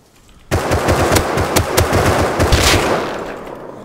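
A weapon fires in the Rust survival video game: after a brief quiet start, a long rapid automatic burst of loud, close gunshots hammers on steadily for over three seconds before trailing off.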